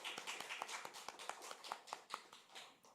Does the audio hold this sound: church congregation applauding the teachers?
yes